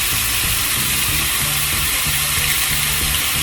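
Tri-tip steak searing in oil in a hot pan, a dense continuous sizzle and hiss with soft popping crackles throughout, loud and close with no talking.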